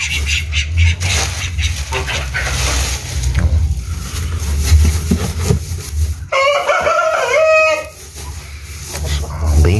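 Hens cluck and murmur close by amid farmyard noise, with one drawn-out crowing call standing out partway through.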